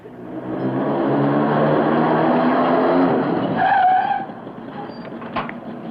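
A shabby car in Spain revs with a loud, close engine roar, then ends in a brief tire squeal and drops to a quieter idle with a faint click.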